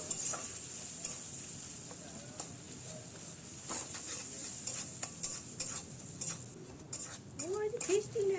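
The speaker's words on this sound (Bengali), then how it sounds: "এই মশলাগুলোকে দিয়ে কিছুক্ষণ ভাজা ভাজা হবে।" Cumin and chilli powder frying in oil in a home kitchen pan, a steady faint sizzle with scattered stirring ticks and scrapes throughout.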